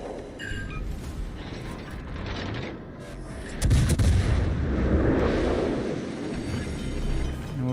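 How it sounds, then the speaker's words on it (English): Battleship gunfire in World of Warships Legends: continuous heavy rumbling salvos with mechanical clanks, and a deep booming surge about halfway through that carries on to the end, with no talking. "We got more battleships firing HE."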